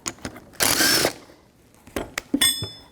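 A 17mm socket and tool work on the rear brake caliper guide pin of a 2007-2014 Cadillac Escalade, giving a sharp burst of mechanical whirring followed by several short metallic clicks and clacks, close and loud.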